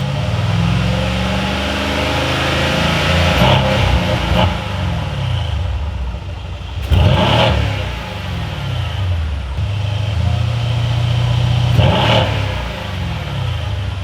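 A 2019 Mercedes C63-S idles with a deep burbling exhaust, valves open, then revs sharply three times in loud bursts, each rising and falling back to idle.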